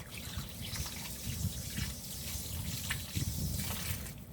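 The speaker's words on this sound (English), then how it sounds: "Let me wash my hands real quick." Water runs steadily from a tap while hands are washed in a van kitchen before seasoning baby back ribs, a continuous close trickle and splash with no talking.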